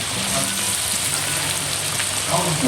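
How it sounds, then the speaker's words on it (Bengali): Chopped ginger and garlic dropped into hot oil for chow mein, a steady close hiss of frying that stays even throughout, with no speech. "চাউমিনের জন্য তেলটা গরম করেছি, করে এটা এখন আমি দিচ্ছি আদা আর রসুন কুচি"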